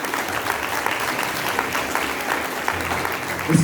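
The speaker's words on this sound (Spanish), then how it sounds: "Denle un aplauso fuerte al Señor" A church congregation applauds during a Sunday service, a dense, steady wash of many hands clapping close by that holds at an even level from start to finish.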